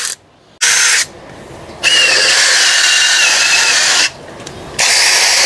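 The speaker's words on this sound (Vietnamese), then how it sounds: "bây giờ mình khoan gỗ, khoan sắt cho anh chị mình coi nha." An Akuza F1 cordless drill bores through wood and steel, loud high whining bursts that start and stop several times with brief pauses, close to the microphone and without talk.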